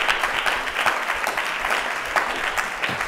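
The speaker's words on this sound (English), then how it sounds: "I think already that deserves a round of applause." Sustained applause from a crowd, dense and even clapping throughout with no voices on top.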